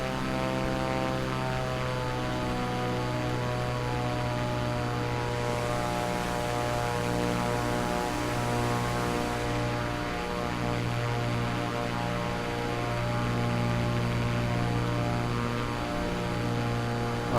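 Microsoft Flight Simulator 2024 renders a propeller aircraft in flight over an airfield: a loud, continuous engine and propeller drone with a steady tonal hum, holding level throughout with no talk.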